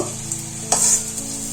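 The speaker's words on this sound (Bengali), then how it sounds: "আমি মুইঠাগুলো এইভাবেই সব ভেজে নেব।" Raw banana muitha dumplings frying in hot oil give a steady close sizzle, with a brief louder hissing burst midway, likely from stirring.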